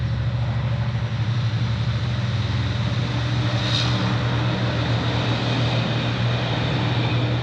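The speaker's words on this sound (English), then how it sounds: "Loud trucks." Loud trucks passing on a road near a horse setting, a constant heavy rumbling roar with a steady low engine drone throughout and a brief brighter swell midway, no voices present.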